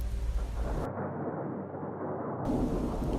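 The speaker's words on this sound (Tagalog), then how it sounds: "Bumibingi kasi sa tenga niya ang malalakas na tunog ng kidlat sa kanilang labas." Deep rolling thunder rumbles on and on, with a steady wash of rain beneath it; the low roar swells and fades without any voices.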